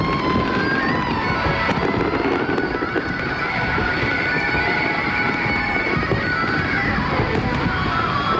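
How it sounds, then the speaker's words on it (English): A massive 16-inch firework shell bursts at a millennium celebration, spreading over 400 metres; a continuous loud crackling roar of sustained explosions fills the whole stretch, steady and dense without pauses. "We're now awaiting the largest firework of all, this massive 16-inch shell, which we're told will spread fireworks over 400 metres."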